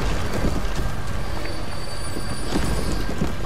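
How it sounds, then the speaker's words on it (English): Train ride in the video game The Division 2, a loud, steady rumble of rail cars rolling along with a faint high whine above it, continuous and close with no talking. "That wasn't a very long train ride, was it?"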